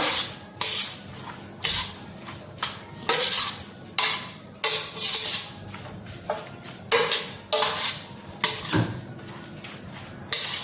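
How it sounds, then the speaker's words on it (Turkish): Onion salad with parsley, lemon juice and sumac being stirred by hand, a run of loud, irregular scraping and clattering strokes in a bowl, close up with no talking. "Hepsini güzelce karıştırıyorum."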